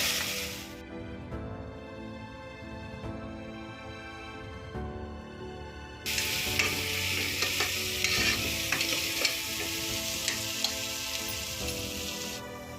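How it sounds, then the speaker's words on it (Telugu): Ginger garlic paste fries and is stirred in a pan, giving a continuous close sizzle that grows louder and brighter about halfway through, with scraping stirs and no speech. "అల్లం వెల్లుల్లి పేస్ట్ బాగా వేపుకోవాలండి, పచ్చివాసన పోయే వరకు"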